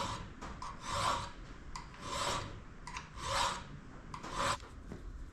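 A hand file rounds and deburrs the edges of a metal cam near the square drive, rasping in four slow, even strokes, each swelling and fading, close and clear with no talking.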